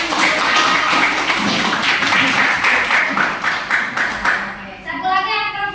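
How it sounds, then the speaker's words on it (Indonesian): A classroom of students claps hands together, a dense, loud burst of applause that keeps going for several seconds before fading into scattered claps, with voices heard underneath. "Tepuk tangan."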